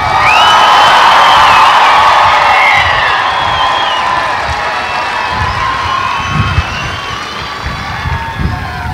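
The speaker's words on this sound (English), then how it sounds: "Let's get one more round of applause for the Airmen and Guardians." A large crowd cheers and whoops loudly at a US Air Force basic military training coin and retreat ceremony, with a broad roar of voices that eases slightly and keeps going steadily.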